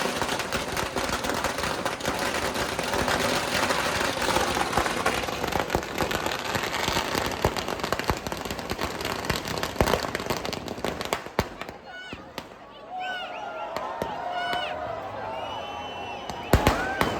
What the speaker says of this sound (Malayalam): ഒരു ചെപ്പടക്കം ഇട്ടിട്ടുണ്ട് കേട്ടോ, ഒരു കേക്ക് ഫുള്ളിട്ടുണ്ട്